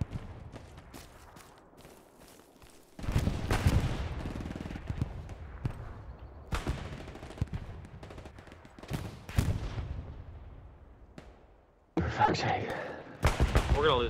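Bursts of machine gun fire in a first-person shooter video game, loud rattling volleys that start and stop in several separate bursts, with quieter stretches between them.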